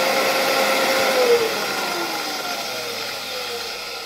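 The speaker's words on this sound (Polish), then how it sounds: "Czy tylko w momencie uruchomienia odkurzacza" An old vacuum cleaner repurposed as a hair dryer runs steadily throughout, a loud continuous motor whine and airflow roar with a faint pitch glide partway through, no voices.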